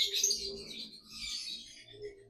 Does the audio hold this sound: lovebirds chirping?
yes